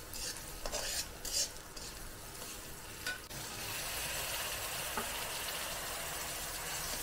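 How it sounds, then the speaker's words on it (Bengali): Ginger-garlic paste and onion frying in a pan for a crab curry, a steady loud sizzle with scraping stir strokes in the first few seconds, then an unbroken hiss with no talk. "তো এটা একটু ভেজে নিচ্ছি।"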